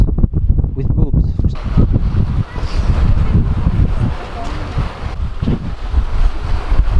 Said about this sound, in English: it's extremely, extremely windy because it's like the tip of the peninsula